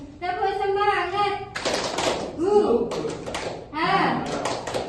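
Schoolchildren in an Indonesian classroom doing a rhythmic 'tepuk semangat' spirit clap, bursts of group clapping interleaved with a teacher's voice and children chanting along.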